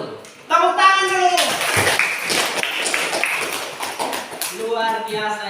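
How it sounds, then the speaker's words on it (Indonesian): Classroom applause after a student presentation, a burst of many hands clapping that starts abruptly and carries on steadily, with children's voices talking over it at the start and end. "Tepuk tangan dulu."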